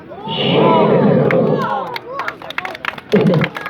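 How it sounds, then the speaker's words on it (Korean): A street crowd at a magic busking show at Wolmido bursts into clapping and cheering, followed by scattered claps and chatter, then another swell of crowd noise. "아까보다 박수가 좋았는데"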